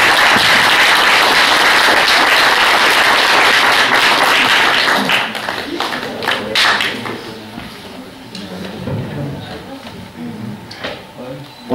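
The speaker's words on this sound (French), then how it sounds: "On peut l'applaudir." Audience applause at a closing ceremony for Europass certificate recipients, loud dense clapping for about five seconds, then thinning to scattered claps and murmuring voices.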